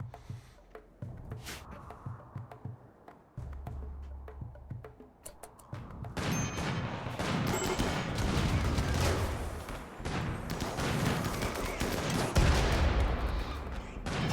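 A slug turret fires in the colony-building game RimWorld. After a quiet stretch with faint scattered shots, a dense, loud volley of gunfire erupts and carries on continuously to the end.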